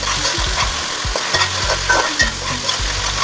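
Rice seasoned with saffron seasoning fries in a pan with a steady, loud sizzle, broken by repeated scraping stir strokes of a utensil against the pan. No one speaks.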